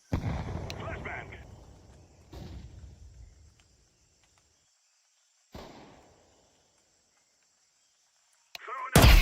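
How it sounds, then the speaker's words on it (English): Flashbang grenades detonate in a video game: several sharp bursts, the first loud with a long rumbling tail, another mid-clip, a fainter one later, and a sudden loud blast at the end. "Throwing the flashbang! Grenade out!"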